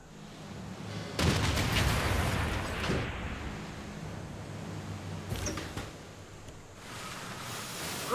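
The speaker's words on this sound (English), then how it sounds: "Go here, start bombarding" Bombardment of a city in Civilization 6, a loud booming barrage that rolls and rumbles for a couple of seconds before fading into a lower din, then a few softer bursts and a final sharp thump.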